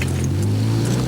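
The engine of a cheap $20 car runs at a steady idle, a close, loud low drone with a constant rumble and no talk.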